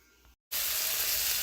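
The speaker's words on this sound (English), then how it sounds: "we are frying up about 4 slices of bacon." Four bacon slices cut in half frying in a pan, a steady bright sizzle that starts abruptly after a brief silence and continues loud and even, no voices.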